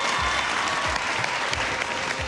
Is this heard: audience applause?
yes